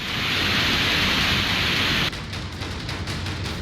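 Heavy monsoon rain during flooding in Himachal, a dense, loud hiss of downpour that drops abruptly partway through to a slightly thinner, uneven rush, with no talking.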